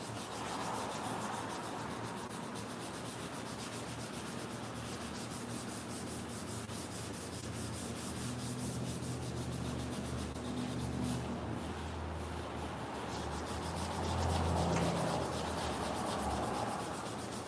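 Worn sandpaper rubbed by hand over a workpiece gives a continuous close, soft scratchy hiss with a steady back-and-forth texture that grows a bit louder toward the end.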